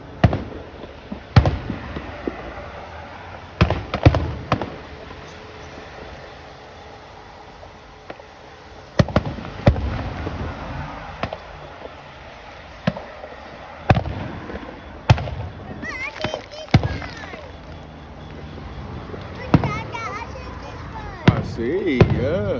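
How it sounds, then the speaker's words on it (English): Fourth of July fireworks bursting in irregular sharp bangs, some near and loud, others distant pops, scattered across an outdoor show with people chatting in the background. "Kyle, you like the firework?"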